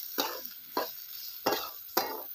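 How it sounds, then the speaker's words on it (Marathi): Idlimbu citron masala pickle being stir-fried in a pan: four evenly spaced scraping strokes of a spoon through the mix over a soft sizzle, close and without talk. "पूर्ण असं आपल्याला मस्त असं परतून घ्यायचंय"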